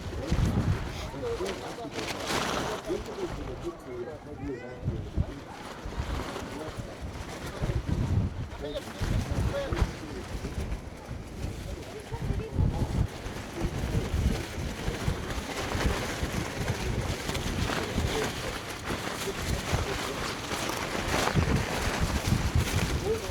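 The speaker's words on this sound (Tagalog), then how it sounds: "Ang lakas ng hangin, guys." Strong wind gusts buffet the microphone for a long stretch at a high spot in Vietnam, rising and falling in loud bursts while people talk intermittently underneath.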